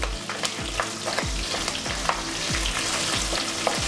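Five green chillies and four dry red chillies fry lightly in a pan with a dense, continuous crackling sizzle, over a rhythmic low mechanical whir.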